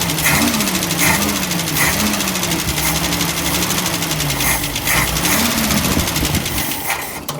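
A cold 1965 Ford Mustang engine with a carburetor needing tuning runs loud and close, its revs rising and falling in slow waves, with no talk.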